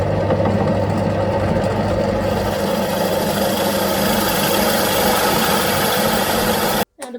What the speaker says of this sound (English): Now the blanks are drilled.